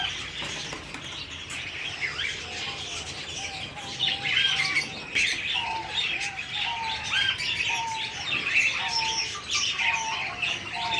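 A pair of caged lovebirds chirp and tweet in quick, repeated high calls with occasional squawks, moderately close against a soft background, with no talking.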